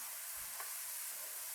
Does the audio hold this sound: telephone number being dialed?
no